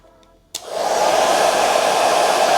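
A Philips Hair Dryer 3000 BHD30830 with its ThermoProtech attachment fitted switches on with a click, then blows with a loud, steady whooshing roar held at close range, with no talking.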